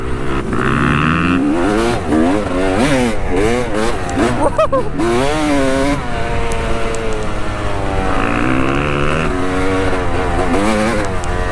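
A 250 two-stroke dirt bike ridden on urban trails, its engine revving up and down in wavering, buzzy bursts that stay loud and close throughout, with speech mixed in over the engine noise.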